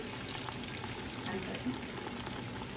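Onion and garlic sautéing in a pan over an outdoor fire, a soft continuous crackling sizzle, quiet and close.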